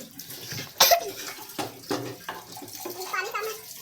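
Water poured into a pot of Kabli pulao in a home kitchen, a brief splashing gush followed by softer trickling, with people talking over it.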